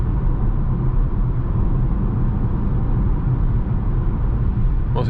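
Tire road noise inside a 2021 Škoda Octavia RS cruising at 100 km/h, a steady low rumbling roar that stays even and continuous from inside the cabin.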